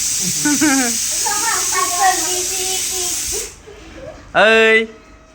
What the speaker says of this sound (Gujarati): કુકરની સીટી પૂરી થઈ જવા છે